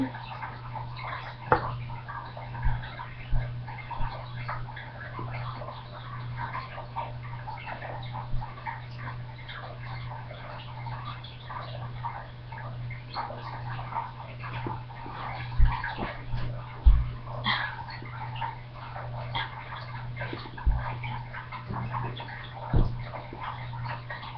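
Liquid is poured nearby in a steady, soft trickle with occasional drips and splashes over a constant low hum.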